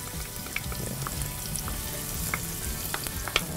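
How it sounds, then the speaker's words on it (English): Onions frying in hot oil for a chicken curry, a steady crackling sizzle with scattered pops and occasional stirring scrapes, close and fairly quiet, no talking. "Alors là, nous allons rousser nos oignons."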